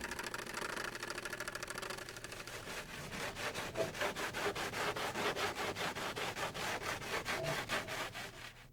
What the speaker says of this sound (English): then cut just outside of the scribed circle